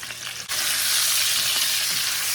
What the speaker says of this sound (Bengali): এখন তেলাপিয়া মাছটা ভাজি করব